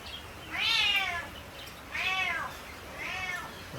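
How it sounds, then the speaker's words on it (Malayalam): A female Bengal cat meows three times, drawn-out and close, with short pauses between each call. "ഇത് ബംഗാൾ കാറ്റ് ഇനത്തിൽപ്പെട്ട ഫീമെയിൽ കാറ്റാണ്"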